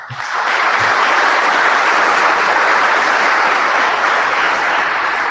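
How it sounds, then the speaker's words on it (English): A convocation crowd at a campus ceremony breaks into sustained applause for the student club members, the clapping swelling quickly and staying thick and steady. "I think you deserve a round of applause"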